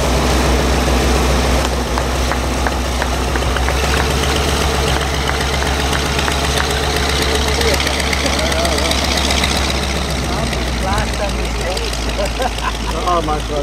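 Vintage Dewoitine D.26 aircraft engine running at an airshow, a steady loud droning hum with knocking, idle-like pulses throughout, joined by a busy crowd and chatter.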